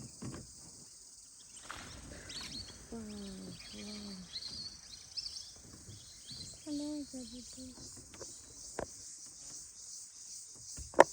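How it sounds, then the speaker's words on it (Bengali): Crickets in a deep forest keep up a steady, high, shimmering drone throughout, with quiet voices talking near the start and middle and a few faint bird-like chirps. "ঝিঝি পোকা ডাকছে"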